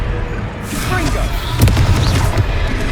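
Confringo blasting spell exploding in the video game Hogwarts Legacy: a heavy booming blast midway through, rolling over continuous battle noise with voices talking around it.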